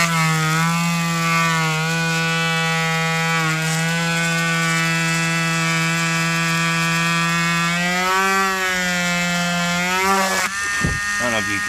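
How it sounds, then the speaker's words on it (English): A small drill bit bores out the impact point on a car windshield during a repair, giving a steady, close motor whine that runs almost the whole time before cutting off with a brief clatter near the end. "First step, just drill out the impact point."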